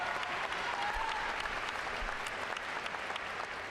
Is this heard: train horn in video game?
no